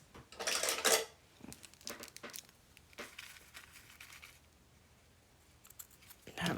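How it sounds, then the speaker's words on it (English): Scissors cut through coffee-stained muslin in a quiet room, with several crisp snips and rustles clustered near the start and a few more scattered after, then a pause before a final cut. "Okay, so let me cut a piece of this."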